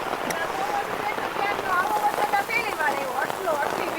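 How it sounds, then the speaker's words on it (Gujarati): Heavy monsoon rain pours in a constant hiss over a village, with people talking over the downpour. "અને વરસાદ એટલો પડે હે કે એની કોઈ સીમા જ નથી"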